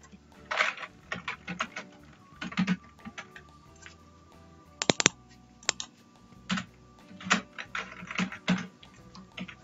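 Typing on a computer keyboard while entering text in Microsoft Word: close, irregular bursts of clicky keystrokes with short pauses between runs, no voices.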